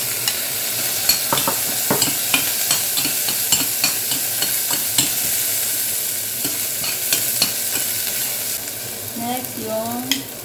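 Onions fry in a pan after garlic, giving a steady sizzle with repeated scraping and clinking stir strokes close up, and no talking.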